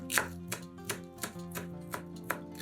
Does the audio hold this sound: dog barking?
no